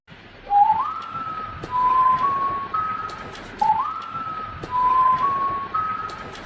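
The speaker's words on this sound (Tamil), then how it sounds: "ஒரு விசில் சவுண்ட் கேட்குது." A human whistle repeats the same short rising, sliding tune twice, loud and close, each phrase made of a few sustained notes with brief gaps between them.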